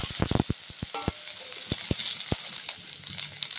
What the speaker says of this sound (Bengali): কচু আলুগুলো দেওয়ার পরে এগুলো করে এবারে নেড়ে নিই।